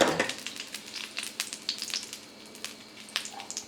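Chopped garlic frying in a small amount of oil for Northern Thai pork larb, giving a close, steady crackle with scattered sharp pops that ease off slightly toward the end.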